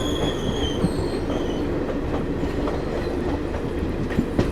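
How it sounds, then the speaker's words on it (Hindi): The Chitrakoot Express, arriving from the Jhansi–Banda line into the Govindpuri Junction yard, rolls past loud and close with a continuous rumble, rhythmic clickety-clack of wheels and faint squealing tones. "ये थी चित्रकूट एक्सप्रेस जो आ रही है झांसी बांदा लाइन की तरफ से"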